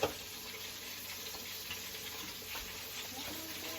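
Onions hitting hot bacon grease in a pan give a soft, steady sizzle, faint and continuous with a few small pops and stirring clinks and no voices.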